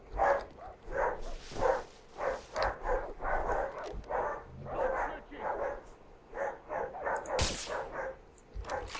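Dog barking in the video game Far Cry 3, a run of repeated sharp barks and yips in quick rhythm, fairly loud and close, with a bright burst of game noise near the end.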